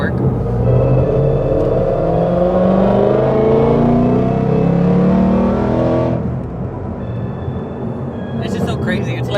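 Modified Ford Mustang GT500 accelerating hard, a loud close engine roar rising in pitch through the gears for about six seconds before dropping to a lower steady rumble as the car settles.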